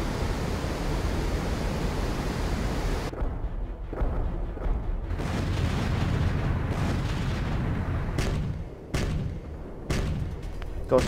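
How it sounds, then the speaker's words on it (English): Coastal cannon batteries dug into a mountainside fire during an aerial combat mission in the video game HAWX 2, a loud, dense roar broken by repeated sharp booming blasts. "We're under fire from enemy gun batteries dug into the mountainside."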